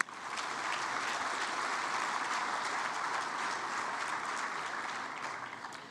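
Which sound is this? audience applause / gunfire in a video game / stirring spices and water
audience applause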